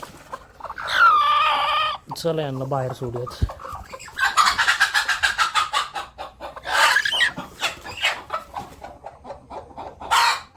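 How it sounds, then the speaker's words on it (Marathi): Chickens in a coop cluck and squawk close by in repeated bursts, with a brief rooster-like call, as a person speaks between the bird sounds. "आता मला इथनं कोंबड्यांना उठवावं लागेल, तेव्हाच त्या दाणा खायला उठतो."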